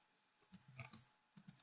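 Bursts of computer keyboard typing while entering paragraph text into an HTML file, sharp close clicks in two quick clusters separated by a short pause, with no voice.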